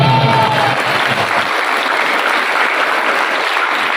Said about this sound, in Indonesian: Kalian semua tepuk tangan.